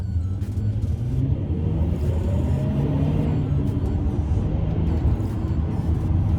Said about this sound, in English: Thirsty engine, yeah, but it's worth it for that sound. I mean, listen to this. This is a second gear pull.